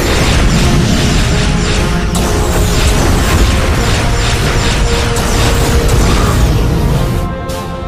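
Starship weapons fire and explosions in a space battle near a starbase: a dense, continuous wall of booming blasts and mechanical clatter, loud and sustained throughout with no pause, thinning slightly in the last moment.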